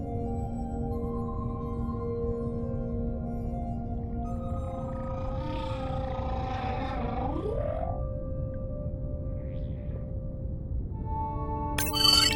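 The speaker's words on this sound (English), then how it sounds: "New whale! We'll designate this one M4, because why mess with a good thing? The sounds don't sound like the prior songs. These are more social sounds." Whale social calls from an ocean exploration video game, soft tonal moans and upward-sweeping whistles over a low underwater rumble, faint and spaced apart, ending with a brief bright electronic chime.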